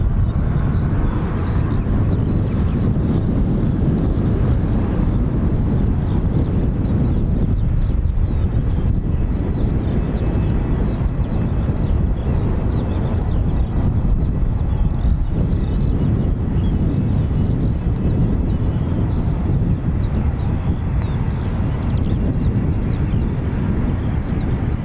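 Etihad Boeing 777 airliner at Dublin Airport, a steady loud broadband jet roar with gusty wind buffeting the microphone throughout, no voices.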